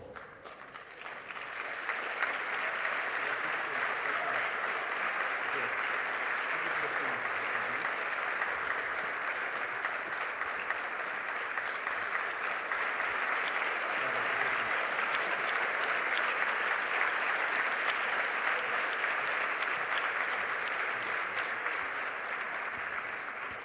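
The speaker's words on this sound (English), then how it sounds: "Let's support, please applause." Conference audience at a plenary session of the CMS COP14 meeting applauding, a long, even wash of many hands clapping that swells in after a quiet start and holds steady before tapering at the end.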